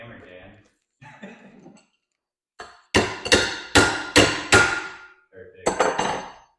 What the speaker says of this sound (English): Use a hammer, Dan.